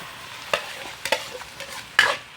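Squid going into a pan with onion and garlic, a soft background sizzle broken by a few sharp spatula scrapes and clanks on the pan, close and clear, no speech.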